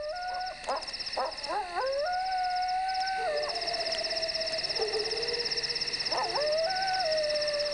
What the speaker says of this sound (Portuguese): Os uivos ajudam os coiotes a se encontrarem no escuro.